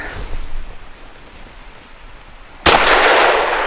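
A CZ P10C pistol fires a Federal 115-grain jacketed hollow point round: after a few quiet seconds comes one sharp, loud report, followed by lingering noise.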